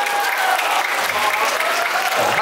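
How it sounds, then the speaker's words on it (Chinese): A crowd applauding in dense, even clapping at a children's street dance camp showcase, continuous and fairly loud. "掌声鼓励。"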